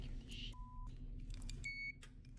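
Electronic alarm beeps in a spooky video game: several short tonal bleeps at different pitches, fairly quiet over a steady low background hum.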